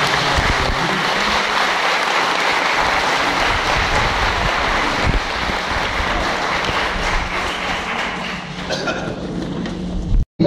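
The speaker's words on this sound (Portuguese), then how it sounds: "eu peço uma salva de palmas de acolhimento." A church audience at a festival Mass bursts into sustained applause, a loud dense wash of clapping that holds steady before cutting off abruptly at the end.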